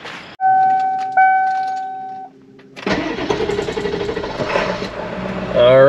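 A Ford 7.3 diesel in an ambulance truck cranks and fires up after a few electronic warning chimes, then settles into a loud, close, rattling idle.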